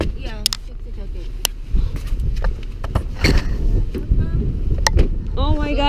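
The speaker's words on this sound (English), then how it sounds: "Oh my god, it's so windy." Strong wind buffets a microphone outdoors at a winter event, giving a loud, rumbling roar in gusts throughout, while people talk briefly over it.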